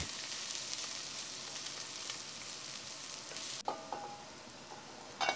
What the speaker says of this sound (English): add the chopped ginger and garlic into the pot and fry them together with the onions for a minute